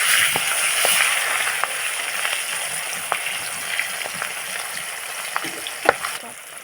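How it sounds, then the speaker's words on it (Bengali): Fish fries in hot oil with a steady, close sizzle and occasional sharp pops and crackles, no voices. "দুটো ভালো করে ভেজে নেব এইভাবে উল্টি দিয়ে"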